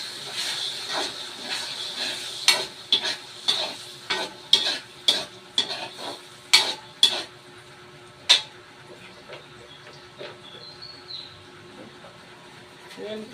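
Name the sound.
adding and stirring sauce into cooking spaghetti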